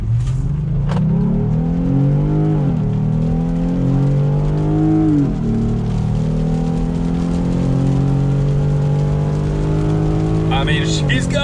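A Jeep Gladiator accelerating hard from a near standstill, its engine rising in pitch through several gear shifts, loud and close from inside the cabin, with people talking over it.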